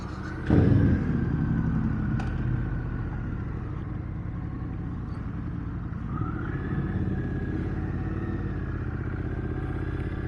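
A Triumph Bonneville motorcycle engine idles steadily nearby with a low rumble after a brief louder clatter at the start, running continuously without talk.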